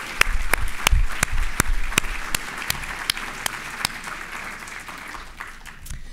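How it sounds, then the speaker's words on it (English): An audience at a university faculty talk applauds, with a dense wash of clapping and a few sharp, close claps, gradually tapering off over several seconds. "So please join me in a round of applause."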